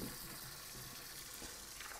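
Water pours into a cooking pot of pork bones for sinigang soup, a steady, moderately faint hissing gush that runs without a break.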